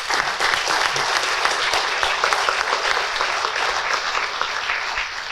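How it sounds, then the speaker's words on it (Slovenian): A large audience applauds at a formal awards ceremony of the Slovenian Medical Chamber, dense sustained clapping that fills the room evenly and stays loud throughout. "Hvala in še en aplavz"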